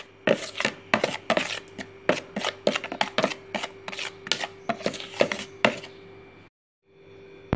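Maida flour batter with eggs being mixed in a bowl, a quick run of sharp, rhythmic tapping and scraping strokes, close and fairly loud, stopping abruptly near the end.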